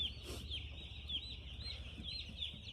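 Broiler chicks in a fenced shed in winter cheep steadily and fairly close, with a continuous high-pitched chorus of peeping and no talk.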